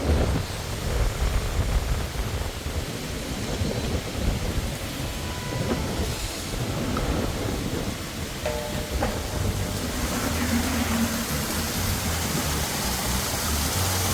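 Roadside waterfall at Roselle Falls in St. Thomas, Jamaica, a steady, loud rush of falling water that roars without a break throughout, with no voices over it.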